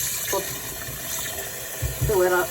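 Cold water running from a kitchen tap into a pot, a steady hiss with a rising gurgle toward the end, while a person talks over it.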